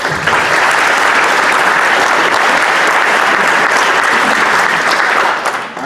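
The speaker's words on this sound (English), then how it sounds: "we ask that you give them a round of applause for all of them" An audience applauds a panel, sustained dense clapping, loud and close, holding steady for nearly six seconds before tapering off.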